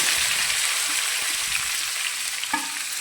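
Chopped onions dropped into hot roasted cumin in a pan, bursting into a loud, close, continuous sizzle with faint stirring scrapes and a small clink near the end, no voices.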